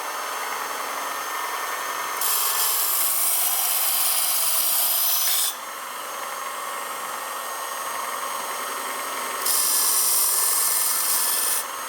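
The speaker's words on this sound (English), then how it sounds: "we're gonna go ahead and put an edge on it, see if it does anything for it" A knife blade drawn across the abrasive of a Work Sharp Combo Knife Sharpener, heard as a close, steady hiss, with two louder, brighter grinding strokes of a few seconds each and no talking.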